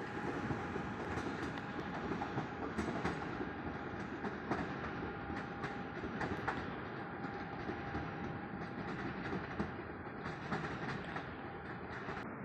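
Intercity train Chełmoński, running Świnoujście to Kraków Główny, rolls into the station with a faint, steady rumble and soft clickety-clack of railcars, continuous and fairly distant.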